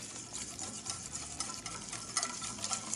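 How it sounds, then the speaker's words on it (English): A thick poke dressing with lime zest is whisked briskly in a bowl, a quiet, rapid scratchy rattle that goes on unbroken for a few seconds. "I'm going to give this a nice whisk"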